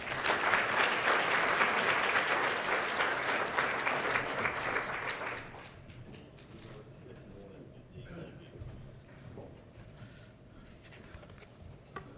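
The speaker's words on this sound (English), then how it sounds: "Please help me welcome Los Angeles County Supervisor Mark Ridley Thomas" Audience applause at a climate change policy conference plenary greets a Los Angeles County Supervisor, loud and dense for about five seconds before cutting off into quiet room tone with faint stirring.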